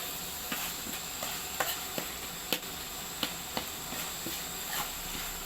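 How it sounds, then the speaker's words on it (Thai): Minced pork and tomatoes stir-frying in a pan for a chili relish, a continuous bright sizzle punctuated by sharp spatula taps and scrapes every half second or so, close and without speech. "เนื้อหมูค่ะลองผัดไปเรื่อยๆ"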